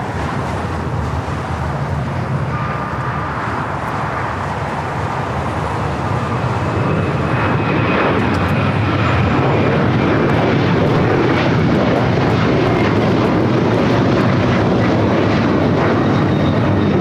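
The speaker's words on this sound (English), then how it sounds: "Airlines 2161 taking off to Newark on the 737-900 ER" A Boeing 737-900ER airliner takes off at LAX with a loud, sustained jet roar that grows steadily stronger and fills the scene, with no speech over it.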